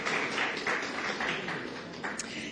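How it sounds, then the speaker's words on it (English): A conference audience at COP 28 applauds a speaker at a panel on ending plastic pollution: a steady wash of clapping that holds at an even, moderately loud level throughout. "Give him a round of applause"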